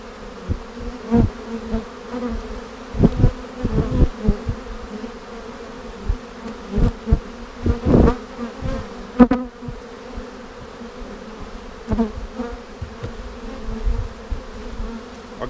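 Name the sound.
honey bees buzzing around hive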